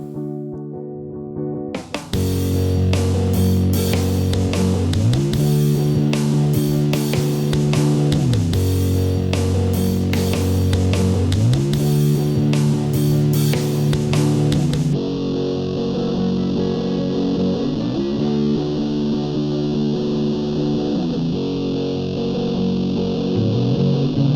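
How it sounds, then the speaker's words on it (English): Heavy distorted electric guitar from a self-made song, chugging chords repeating in a steady loud pattern with effects, thinning to a sustained tone partway through, no vocals. "I really like the guitar tones."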